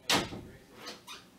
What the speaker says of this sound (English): I'm gonna close your door now.